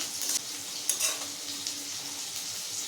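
Fish curry with gourd being stirred in a pan just after sugar is added, giving a steady soft sizzle with faint scraping strokes, close and without talk.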